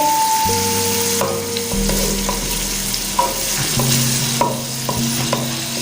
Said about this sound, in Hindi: अब इनको अच्छे से हम फ्राई करेंगे।